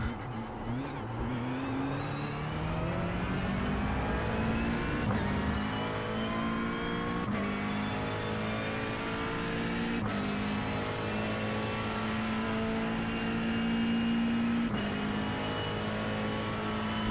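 A chrome McLaren race car in the iRacing sim holds a steady engine drone that climbs and shifts through gears, with harmonic tones rising and resetting at regular intervals, loud and continuous with no talk.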